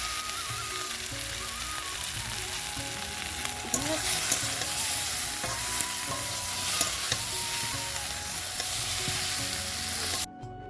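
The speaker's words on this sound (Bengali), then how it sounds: "এখানে মশলা দিয়ে কচুটা ভালো করে কষাবো।" Taro fries with spices in a pan, giving a loud continuous sizzle with stirring and scraping close up for about ten seconds before it cuts off abruptly.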